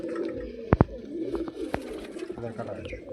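A pigeon, a hen bird, gives a few soft low coos close by, mixed with brief sharp clicks and handling noise.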